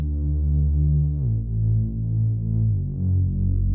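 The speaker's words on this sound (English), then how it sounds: "I used this preset I created for Serum 2 and I left it dry" Serum 2 synth bass preset played dry, a deep sustained tone with thick low harmonics shifting between three held notes, loud and steady with a slow throbbing swell, no voices present.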